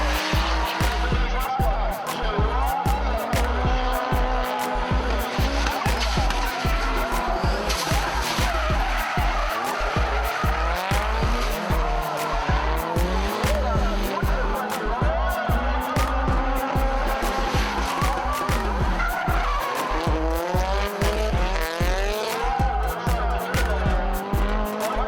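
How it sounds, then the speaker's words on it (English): Drift cars at a drifting event scream around a track with high engine revs and long tire squeals in rapid, overlapping bursts, loud and continuous, with a narrating voice over the action. "the drifting action was hard and fast"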